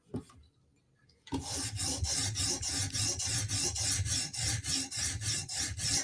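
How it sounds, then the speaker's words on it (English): A knife blade is stroked over a sharpening stone with steady pressure, each pass a near, loud rasping scrape repeating in an even back-and-forth rhythm after a brief quiet start. "This is the way I like to sharpen."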